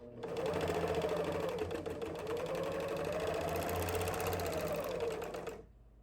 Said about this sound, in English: And then you're going to overlock or zigzag the side seams of the sleeve to finish it.